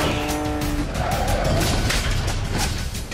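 Tires skid and squeal in a movie car chase, a loud sustained screech over roaring engine noise, dense and continuous for about three seconds with no talking.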